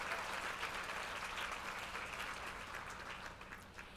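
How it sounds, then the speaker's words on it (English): Audience at an annual professional women's awards luncheon applauding, a steady dense wash of clapping hands from a roomful of people, fairly even and gradually tapering toward the end. "let's give them a very big round of applause for their many contributions to our community"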